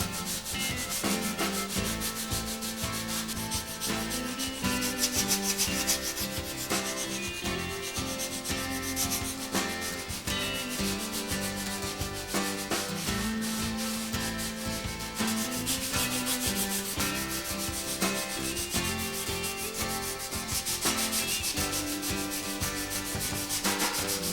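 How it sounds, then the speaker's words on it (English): A balsa wood shell block sanded with 220 grit sandpaper, a steady, dense rasping scrub that runs continuously in long strokes, close and loud, with no talking. "carefully block sand the surface smooth. I prefer 220 grit sandpaper for this job"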